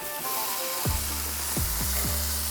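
Burgers sizzling on an electric grill right after flipping, a loud steady close hiss with a few low thumps as patties settle, no talking.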